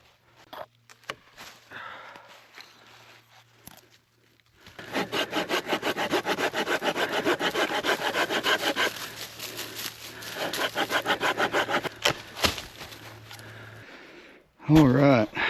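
Firewood is sawed by hand at a campsite, a close, rhythmic rasping of back-and-forth strokes running for several seconds, with some brief handling noises before and after.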